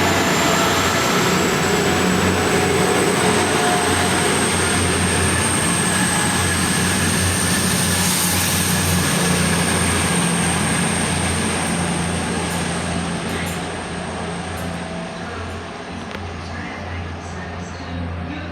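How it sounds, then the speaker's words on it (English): An East Midlands Railway diesel train pulling out of Derby station toward London, a loud sustained engine drone with a steady high whine, the rumble easing and fading gradually as it moves away over nearly twenty seconds. "Departing now is the 12:09 East Midlands Railway service to London"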